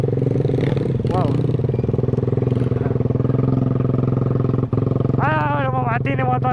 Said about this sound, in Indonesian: Ini motor kayaknya.